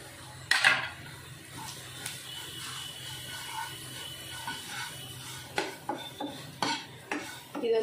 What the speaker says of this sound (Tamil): இது வந்து எண்ணெயில் போட்டு கொஞ்சம் நல்லா வதக்கணும்